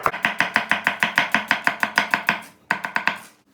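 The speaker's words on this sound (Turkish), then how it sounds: "Hemen 2 tane orta boy soğan doğruyoruz." Knife chopping two medium onions on a cutting board, a fast, even run of about fifteen crisp close taps, a brief pause, then a few more quick chops, with no voices.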